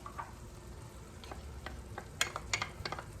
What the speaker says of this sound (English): you're going to add the cream of celery soup. You're going to add the tomato sauce